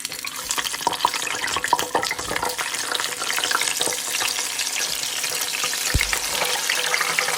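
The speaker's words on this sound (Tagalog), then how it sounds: "Prito na natin yung ating manok." Oil sizzles and crackles continuously as chicken fries close by, with a steady hiss and occasional pops.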